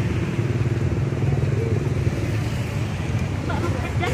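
A busy, congested road in Bojonegoro, Indonesia, crowded with motorcycles makes a dense continuous roar of passing engines and traffic noise. Faint voices sit low in the mix.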